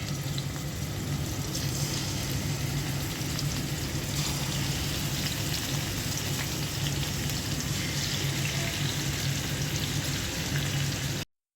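Rohu fish frying in hot oil in a frying pan, giving a steady, dense sizzle that runs unbroken and close for the whole stretch with no voices, then cuts off at the end.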